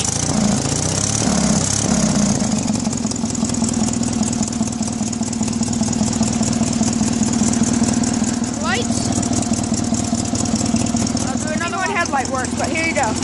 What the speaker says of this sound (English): we'll just start her up. It's got an 18 horsepower Onan